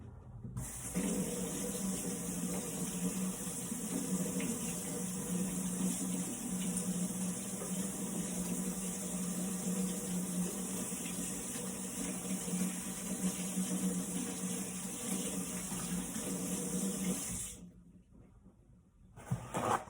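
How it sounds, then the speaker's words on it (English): A spatula smeared with purple cake batter is rinsed under a running kitchen tap while baking a cake; a steady, close stream of water pours for about seventeen seconds, then cuts off abruptly. "I'm going to wash it first because, or at least rinse it off"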